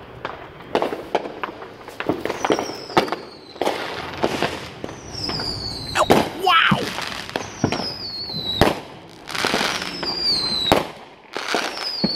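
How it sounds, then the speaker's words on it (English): Fourth of July fireworks burst in a rapid series of sharp cracks and pops, some with whistling rising tails, spread across a dozen seconds outdoors, with people's voices faint in between. "Any more fireworks?"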